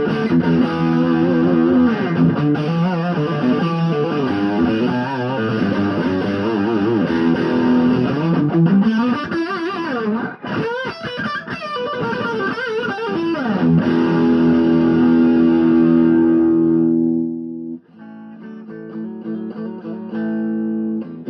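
A loud, overdriven electric guitar through a Mahaffay Hilo Watt Plexi tube amplifier with the master volume maxed plays chords and bending lead lines with thick crunch, then rings out into a quieter, sustained tail of notes.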